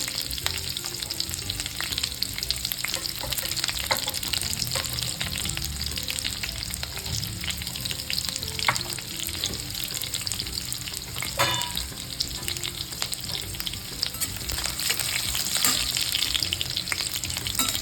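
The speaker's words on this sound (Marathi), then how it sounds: "थोडा कढीपत्ता टाकायचा दोन मिरच्या घेतल्या बघा थोडं ते टाकायचं" Curry leaves and green chilies fry in hot oil with cumin for spicy Solapuri usal, giving a steady crackling sizzle throughout, close by, with occasional stirring clinks and no speech.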